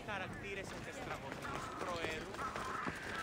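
Galloping hooves drum along under constant game music and effects in Assassin's Creed Odyssey, while a voice speaks over the top.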